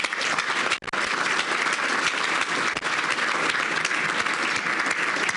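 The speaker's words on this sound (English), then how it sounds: "please join me in a round of applause for the longtime architect of this event" Applause at a Boys and Girls Club St. Patrick's Day luncheon, a dense, steady wash of clapping from a large seated crowd filling the room, loud and continuous with no talk.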